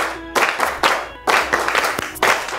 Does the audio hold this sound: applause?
yes